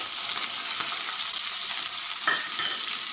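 Onions and green chilies fry in a pan with a steady, dense sizzle that holds at a constant level throughout, with a brief stir or clink near the end and no talking.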